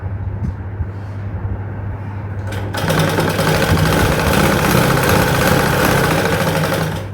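A sewing machine stitching fabric for a churidar, quiet at first with a low hum, then running fast and loud in a dense, steady whir until the end.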